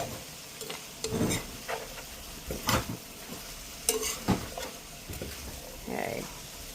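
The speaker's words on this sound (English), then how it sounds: "to our onions, we are going to add the celery, and then we are going to cook that down" Celery and onions cooking down in a pan, a soft background sizzle punctuated by irregular stirring scrapes and clinks of a utensil, close but fairly quiet.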